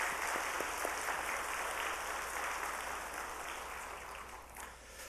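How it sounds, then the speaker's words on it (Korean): A church congregation at a Wednesday worship service applauds, a faint, even wash of clapping heard from a distance that slowly fades over a few seconds. "박수 드리겠습니다"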